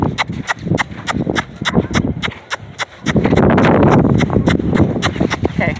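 A horse walks on hard ground, hooves clip-clopping in a steady, even rhythm close by, with a louder rushing background joining partway through.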